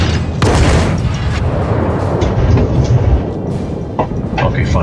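Warship guns firing in the naval video game World of Warships, a loud rumbling boom that carries a heavy low roar throughout, with further sharp reports near the end under game noise and faint talk.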